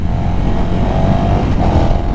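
A KTM 1290 Super Duke R motorcycle engine revs hard under open throttle, a loud, continuous roar with a brief dip and surge in the middle, heard up close without talk.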